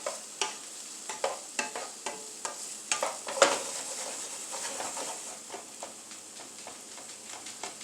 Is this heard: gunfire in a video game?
no